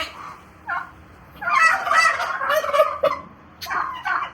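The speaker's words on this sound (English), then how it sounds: "Too many turkeys." Turkeys gobble in several loud bursts, rapid warbling calls overlapping from a flock nearby, with short pauses between, no voices.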